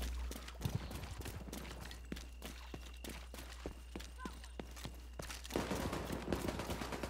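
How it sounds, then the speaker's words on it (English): Gunfire from the video game The Division 2, a series of sharp shots and bursts spread through a combat scene, moderately loud with a steady game background and busier firing near the end. "That's obviously gunshots."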